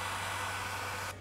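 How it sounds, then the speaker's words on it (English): A blow dryer runs with a steady, loud, close whooshing hiss and a low hum, then cuts off abruptly near the end, with no voices. "So I'm gonna need to get a blow dryer."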